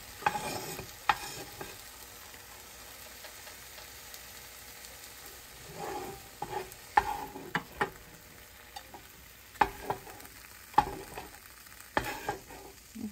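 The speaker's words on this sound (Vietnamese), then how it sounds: "Tiếp tục các bạn xào tàu hũ." Tofu being stir-fried in a pan for a ginger, mushroom and tomato tofu soup, with steady sizzling and repeated sharp scraping and clacking of a utensil stirring, no voices.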